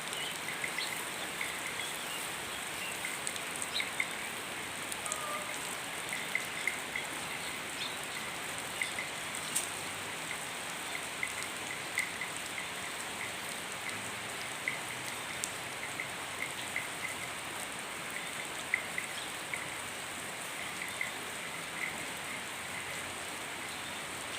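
Steady rain falls throughout, a dense even hiss of drops with occasional sharper drips striking a surface, and faint bird calls sound in the background.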